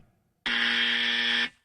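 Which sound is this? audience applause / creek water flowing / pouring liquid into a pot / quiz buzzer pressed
quiz buzzer pressed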